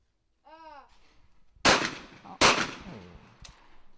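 Two loud, sharp shotgun blasts at skeet targets ring out at a women's junior skeet final, followed by a fainter third pop. A brief whistle-like tone sounds before the shots.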